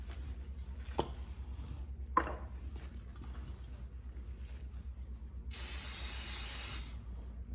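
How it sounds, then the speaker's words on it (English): A single burst of cooking spray hisses sharply for about a second over a low background hum, after a couple of faint clicks, as a pressure canner's inner seal is oiled before canning okra. "put some oil around the seal and some cooking spray"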